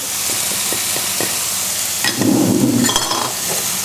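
Spices tipped into an onion mixture frying in a pan, a steady sizzle with a few soft taps at first, then a louder burst of crackling and stirring as the spices hit the hot oil.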